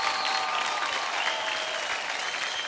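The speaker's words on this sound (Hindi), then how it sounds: "जोरदार तालियां हो जाए।" Studio audience on a televised Indian dance competition show bursts into loud, sustained clapping and cheering that fills the whole stretch without pause, with no voices standing out.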